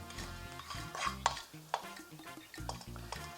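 Roasted chickpeas and cauliflower tossed together in a bowl, soft rustling and stirring with a few light clinks of a utensil, quiet and close over a low musical background, with no talking.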